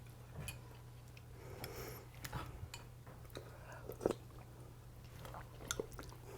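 Quiet close chewing and soft crunching while tasting stew, irregular small bites and mouth sounds over a low steady hum, with faint murmured talk in between.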